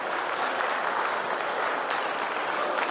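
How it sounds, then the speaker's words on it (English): Audience applause at a conference stage session, steady dense clapping filling the whole moment at moderate loudness with no voices over it. "Yeah, applause."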